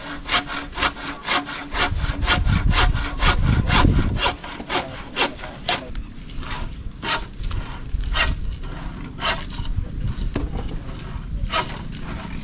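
A handsaw cuts through wood while a nipa hut is being built, giving steady, rhythmic back-and-forth strokes that are loud and close, with a heavier rasp early on and no talking.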